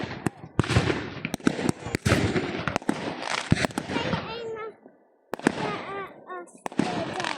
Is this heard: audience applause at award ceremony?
no